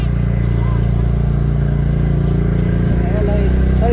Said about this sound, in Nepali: बिस्तारै जाऊँ नयाँ स्कुटर छ